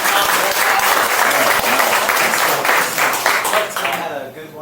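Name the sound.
applause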